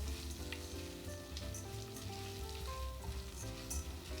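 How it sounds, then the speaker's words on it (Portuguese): Garlic fries golden in a pan for a risotto, a steady dense sizzle with occasional stirring scrapes, continuous and close, with no talking. "Agora a gente dá continuidade aqui, mexendo, com o alho bem douradinho."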